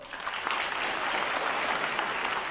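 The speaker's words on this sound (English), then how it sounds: "Clap if you've seen the movie but haven't read the book." Audience applause fills a comedy talk by Stephen King, steady dense clapping from a crowd at close range with no voices over it.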